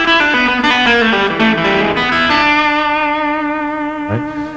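A distorted electric guitar with reverb and a light chorus shimmer runs a quick blues lick, a flurry of picked notes settling into long ringing sustained tones and a final slide, loud and up front with no talking.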